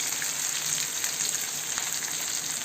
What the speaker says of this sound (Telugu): ఈ ఉల్లిపాయని ఒక 5 నిమిషాలు దోరగా వేయించుకోవాలండి